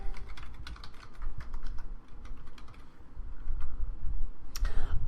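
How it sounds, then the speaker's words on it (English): Steady rapid typing on a computer keyboard, a dense run of close clicking keystrokes over a low background rumble, with a sharper burst of clacks near the end. "I'm going to type in the chat just to make sure"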